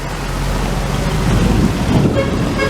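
Heavy rain roars in a thick, constant wash with a low rumble underneath, loud and close throughout.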